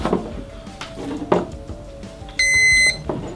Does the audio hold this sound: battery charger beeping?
yes